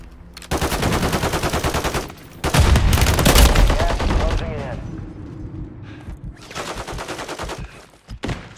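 Rapid automatic gunfire and bursts of shots in a Warzone 3.0 video game match, loud and dense in several stretches, mixed with game voices and player talk.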